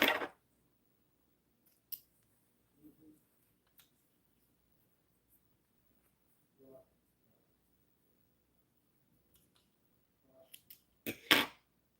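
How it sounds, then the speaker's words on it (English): Scissors snip sewing thread in a few quiet, separate clicks spread across a near-silent room, ending in a louder burst of handling noise. "let's cut our thread and remove our pins"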